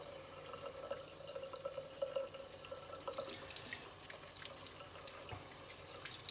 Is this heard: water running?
yes